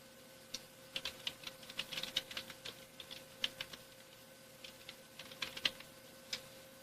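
Typing on a computer keyboard while entering text into a spreadsheet: light, irregular key clicks in quick clusters, close and fairly quiet, with no talking.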